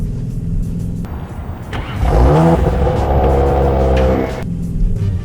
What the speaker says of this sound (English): the exhaust sounds really good